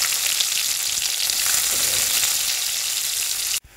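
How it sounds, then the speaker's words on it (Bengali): Onions fry in oil with cumin seeds and bay leaf in a pan for a pointed gourd curry, making a loud, steady, close sizzle that cuts off abruptly near the end. "পেঁয়াজটা একটু ভাজা হয়ে গেছে"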